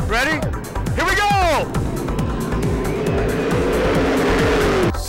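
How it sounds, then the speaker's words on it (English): Modified race cars roar past at close range as the main final heat starts, with engine notes sweeping up and down one after another and a dense, loud growl of engines continuing behind. "They're going to let me start the main modified final heat."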